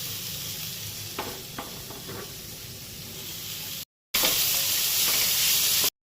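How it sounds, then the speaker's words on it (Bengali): Maggi noodles cooking in a pan with fried cabbage, onion, green chili and carrot: a steady, close sizzling hiss with a few stirring scrapes, which cuts out briefly and then returns louder and brighter. "আর এই যে ম্যাগি সিদ্ধ করছি।"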